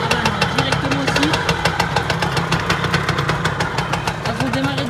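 Yamaha PW 80 children's motorcycle engine running close by, a steady rapid two-stroke putter with a continuous buzzy drone and a little throttle wobble throughout.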